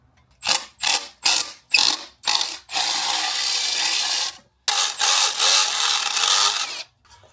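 A ratchet tightens the heat shield screws near the downpipe on a Honda Civic Type R FL5, clicking in five quick bursts and then two longer runs of rapid, loud ratcheting.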